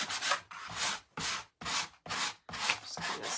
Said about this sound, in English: Then I can take my sanding sponge